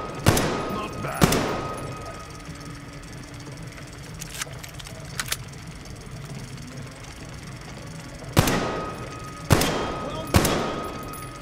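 Marine rifle gunfire in Metro Exodus: sharp, heavy single shots in two clusters, a pair at the start and three near the end, with quiet ambient rumble between and no speech.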